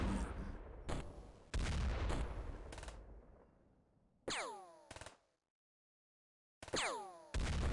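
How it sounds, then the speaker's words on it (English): Gunfire in the X-COM video game, a few distant bursts of shots and rattling fire separated by quiet gaps, with ringing, whistling tails trailing off after some volleys and a stretch of near silence. "they're shooting it way down there."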